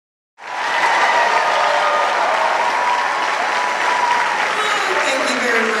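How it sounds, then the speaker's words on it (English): Audience applause bursts out at a film festival awards event honoring the outstanding performer of the year, a loud, dense wash of many hands clapping that starts abruptly and holds steady to the end. "There's nothing greater than applause"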